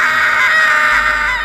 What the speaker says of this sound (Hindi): तभी एक औरत की चीख सुनाई देती है।